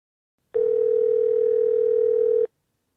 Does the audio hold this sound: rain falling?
no